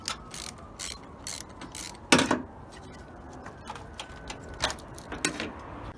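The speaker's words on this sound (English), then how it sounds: "we want to remove the negative terminal with a 10mm socket." A ratchet with a 10mm socket loosening the negative battery terminal on a 2013 Honda Civic, giving quiet, repeated clicking bursts of the pawl at an irregular pace, fairly close.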